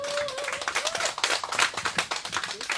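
An outdoor candlelight rally crowd in Seongju claps and applauds for an introduced singer, rapid uneven hand claps close by with a brief whistle or cheer at the start.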